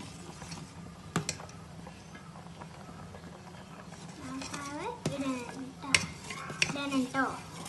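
Macaroni being stirred in boiling milk in a metal pot for a payasam, with spoon scrapes and clinks against the pot near at hand, some sharp knocks, and voices talking through the second half.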